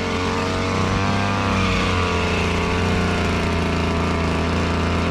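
A KOSHIN EP-10P engine-powered sprayer running steadily up close, its small engine droning loud and continuous with a slightly unstable pitch, alone without talking.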